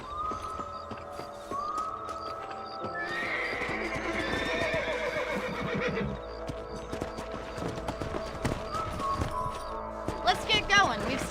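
Horses in the Red Dead Redemption video game whinny and neigh in drawn-out calls over clip-clopping hooves, with game ambience and speech mixed in, moderately loud and continuous.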